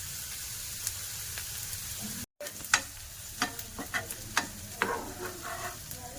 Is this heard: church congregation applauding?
no